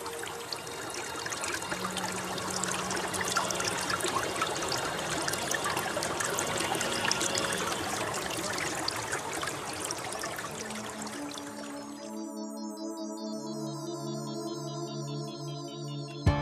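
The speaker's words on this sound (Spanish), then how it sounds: "A través de pequeñas cuevas discurre el arroyo que riega Valdecasa." A stream trickles and gurgles through small granite caves near Valdecasa in Ávila, a steady soft rush of water that gives way midway to sustained music tones.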